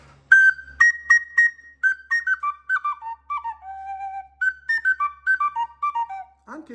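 A Sicilian friscaletto, a small folk flute, plays a quick run of bright, clear notes with tongued articulation, phrases stepping downward and ending on a lower note, close and alone.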